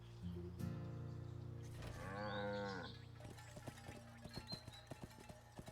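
Cows mooing in the video game Wytchwood: several long, drawn-out moos in a row, followed by a quick series of clip-clop hoof-like taps, all fairly close and clear with no talking.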